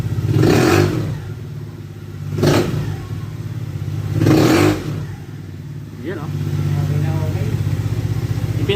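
Euro Model T vehicle climbing uphill, its engine revving hard in three loud surges with lower steady running between them, close and rough with some clatter.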